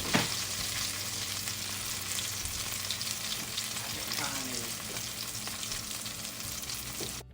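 Pinto bean patties pan-frying in oil give a continuous soft sizzle with occasional crackles and light utensil sounds, moderately quiet and steady throughout.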